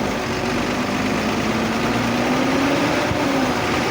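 A Tata truck engine, just back from a sensor supply voltage fault repair, runs steadily up close with a low, continuous rumble and a slowly rising tone as it is revved, with no talk over it.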